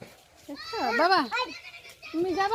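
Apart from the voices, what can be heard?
goats bleating in a village yard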